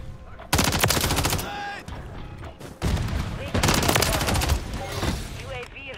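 Loud, dense automatic gunfire from Call of Duty Modern Warfare III on the Rust map rattles in long sustained bursts. It breaks off briefly a few times and then resumes just as heavy.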